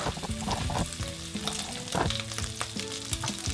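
Butter and ginger garlic paste sizzle steadily in a pan for kadai paneer, a continuous close crackle broken by scraping stir strokes, with no voices.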